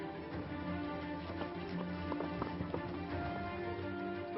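A horse clip-clops up a slope in steady footfalls under constant background noise, fairly faint and somewhat distant.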